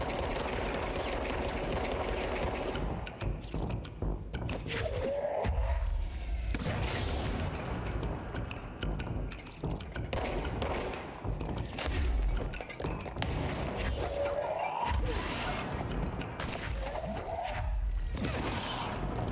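Gunfire in the video game Control comes as heavy booming shots and blasts with rumbling impacts and debris crashes, loud and dense throughout, with brief pauses between volleys.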